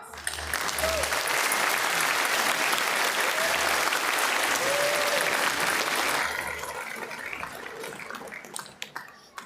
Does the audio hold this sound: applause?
yes